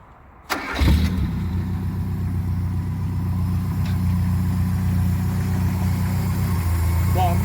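A Peugeot 504 Dangel 4x4 station wagon engine cranks and catches after a brief quiet start, then settles into a steady, close idle that runs to the end with no talking.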